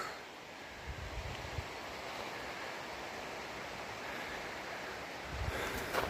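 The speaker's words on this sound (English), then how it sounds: "North Cheyenne Canyon Creek down there" North Cheyenne Canyon Creek rushes below a scree field in Colorado, a steady faint wash of flowing water with some wind across the microphone.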